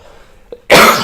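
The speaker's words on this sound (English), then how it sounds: "Stupid coughing." A single hard cough bursts out close by, loud and harsh, after a brief softer throat sound and near silence.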